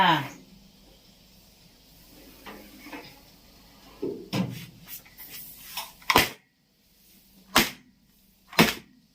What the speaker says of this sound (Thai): เอาขนมออกจากเตาต้องเคาะประมาณสามครั้งนะคะ เพื่อไม่ให้ขนมเรายุบค่ะ